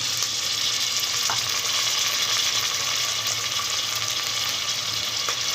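Onion and tomato pieces for goat head curry fry with a steady, close sizzle, and a couple of faint stirring taps break the hiss.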